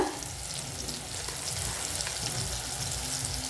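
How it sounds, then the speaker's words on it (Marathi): Chili, garlic, onion, tomato, green chili and turmeric fry in a pan for a Marathi ridge gourd dish, giving a steady, close, even sizzle that runs without a break. "आता छान भाजून घेऊया"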